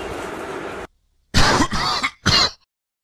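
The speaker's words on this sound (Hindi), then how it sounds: "बाबू ने जैसे ही खांसा" A few harsh coughs and throat clears inside a Hindi pop song, close and loud, in two short bursts after a break in the music.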